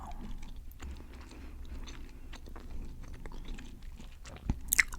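Gum being chewed close up, with soft, irregular wet chewing and smacking sounds going on steadily for several seconds and a sharper click or pop near the end, in an otherwise quiet room.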